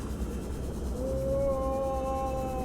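Low, drawn-out tonal moans of whales in the underwater video game Subnautica, a long sliding call sustained over a steady deep ambient wash, moderately loud with no talking.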